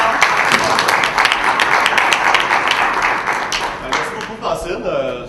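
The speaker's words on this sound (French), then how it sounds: "Et ça va te permettre de t'applaudir bien fort." Applause from a press-conference audience at a live show, a dense patter of clapping with some sharp individual claps, thinning toward the end, with voices mixed in.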